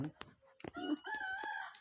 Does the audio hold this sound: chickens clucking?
yes